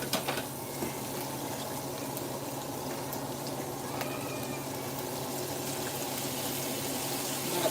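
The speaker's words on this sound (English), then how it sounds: "So I'm gonna add some W sauce first." Worcestershire sauce goes into a hot pan while cooking Philly cheesesteak pasta, a soft steady sizzle and bubbling hiss that runs quietly and evenly throughout.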